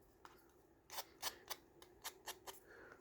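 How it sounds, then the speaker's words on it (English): Scissors snipping along paper edges to distress them for a grungy library card pocket craft, about seven quick crisp cuts in an uneven rhythm, close and clear with no talking. "just distress the edges here with your scissors"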